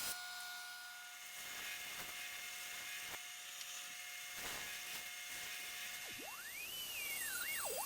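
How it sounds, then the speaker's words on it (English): A high-pitched Dremel rotary tool whines steadily at a distance, its pitch dipping and rising as it smooths a wooden surface. "I really enjoy it when I get to use my Dremel."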